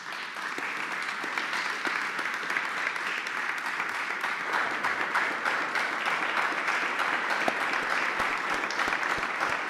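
A large audience at a talk on winning the freedom to marry claps continuously, a thick, even wash of applause held at a moderate level from start to finish.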